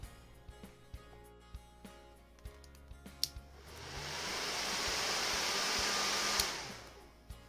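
A repaired TITAN industrial heat gun with a fixed broken heating coil: a few sharp clicks and handling knocks, then the fan spins up into a loud, steady airy rush that holds for several seconds before easing slightly.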